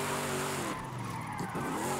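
A heavy wagon muscle car in Forza Horizon 5 slides sideways through a corner, its engine droning loudly as the tires squeal in a short skid near the middle of the clip.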